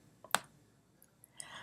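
A sharp, close computer mouse click stands out against near silence, followed by a few fainter clicks and a soft rustle.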